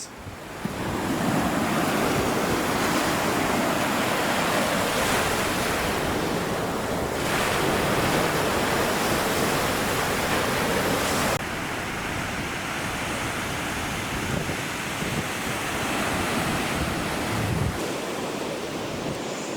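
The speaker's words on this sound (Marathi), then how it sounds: "समुद्राची सळसळ ऐकू येते का तुम्हाला गाज म्हणतात त्याला गाज समुद्राची गाज" Ocean surf washes onto a white sand beach at Sandals resort in Barbados, West Indies, a loud, continuous rushing roar of breaking waves with wind buffeting the microphone and no talk.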